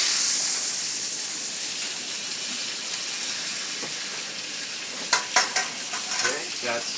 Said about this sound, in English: we'll cook those a little bit for our hash brown